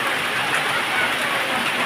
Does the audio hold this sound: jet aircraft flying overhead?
no